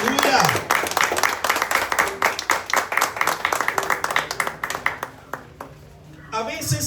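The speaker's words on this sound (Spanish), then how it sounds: "Aplauda al Rey." A church congregation claps and applauds, many hands in rapid overlapping claps, loud and close, fading out briefly before a voice comes in at the end.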